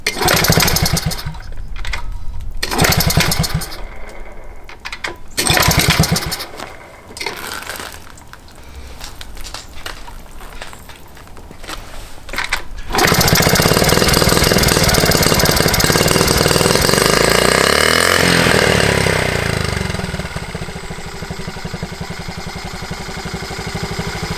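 A Honda T50 small motorcycle engine, running for the first time in ten years, revs up roughly in uneven knocking bursts that choke out, then holds a loud, ragged, stumbling run up close.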